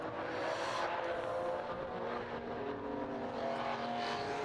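Classic race cars run at the Estoril circuit, a dense continuous engine roar with cars passing and revving, moderately loud with crowd-free track ambience.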